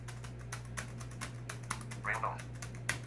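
A folder name is typed on a BrailleNote keyboard: a quiet, irregular run of light key clicks over a constant low electrical hum, with a brief faint electronic chirp partway through.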